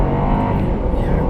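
A Toyota Crown Majesta S180 accelerates hard, its engine giving a loud, dense, sustained roar for the full moment.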